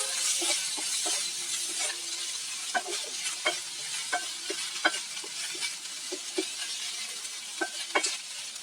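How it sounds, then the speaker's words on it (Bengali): Jute leaves frying with coconut paste in a pan, a steady close sizzle with scattered clinks and scrapes of a spatula stirring, no voices. "তো আমি একটু ভেজে নিচ্ছি"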